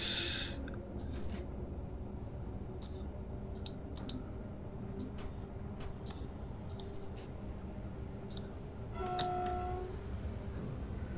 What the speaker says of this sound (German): Da ist irgendwo eine S-Bahn.